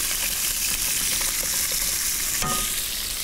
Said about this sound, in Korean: 자, 볶아 주세요.